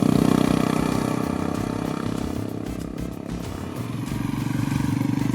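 Royal Enfield Himalayan motorcycle pulling away on a road in the Basque Country hills, its steady single-cylinder engine drone holding loud and close throughout with a slight rise in revs near the end, no talk.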